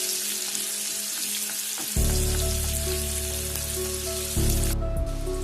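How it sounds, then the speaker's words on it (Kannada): Finely chopped onion hits hot oil in a pan, bursting into a loud, close, steady sizzle that swells as more pieces drop in, with a brief clatter near the end and no talking. "ಎಣ್ಣೆ ಕಾದ ನಂತರ ಒಂದೇ ಒಂದು ಚಿಕ್ಕ ಈರುಳ್ಳಿ ಚಿಕ್ಕದಾಗಿ ಕಟ್ ಮಾಡ್ಕೊಂಡಿದ್ದೀನಿ, ಅದು ಹಾಕೋತಾ ಇದ್ದೀನಿ"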